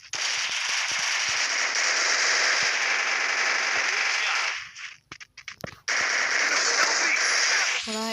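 Rapid automatic gunfire from a mobile shooter video game rattles in dense, sustained bursts, broken by a short gap of sharp single shots before another loud volley resumes.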